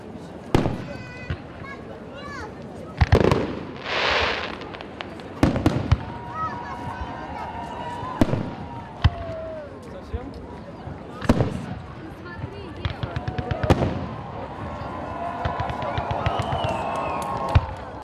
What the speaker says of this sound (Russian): Фееричной точкой первого дня праздника становится салют.